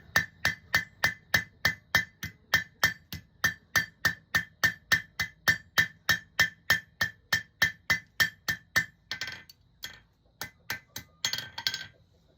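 Rapid, evenly spaced ringing hammer strikes on hot steel on an anvil while forging a wall hook, dozens in a steady rhythm, then a few irregular blows with brief scraping between.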